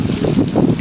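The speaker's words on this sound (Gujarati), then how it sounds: "જો તો ખરા મિત્રો વાવાઝોડું કેમ છે" Strong cyclone wind in Bhavnagar buffets the microphone in a loud, continuous low roar with gusting surges.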